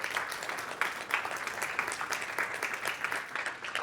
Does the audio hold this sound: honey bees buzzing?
no